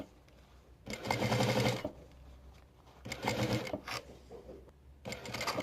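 Sewing machine stitching bias binding onto a bib, running in three loud close bursts of rapid needle chatter separated by quiet pauses.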